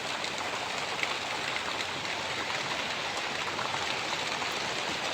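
Steady rain falls over open farmland with groundnut crops in Banaskantha, an even, unbroken hiss of drops with no voices, holding at the same level throughout.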